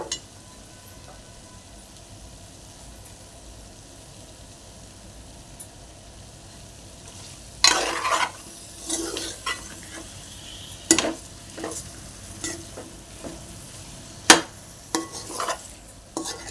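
Chicken fry nearly done in a pan, a soft steady sizzle in the background broken by several sharp metallic scrapes and clinks of a spoon stirring, mostly in the second half.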